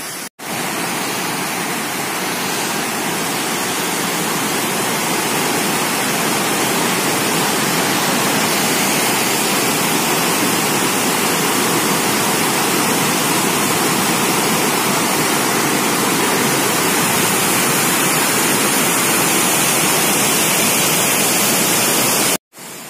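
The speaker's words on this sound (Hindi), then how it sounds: "चलिए आगे आपको दिखाते हैं और आपको इनकी नदी की आवाज़ सुनाते हैं।" Falgu river water rushes past an Indian village at Luxmipur near Gaya in Bihar, a steady, loud, broadband roar that holds unbroken and even from start to finish, with no voices over it.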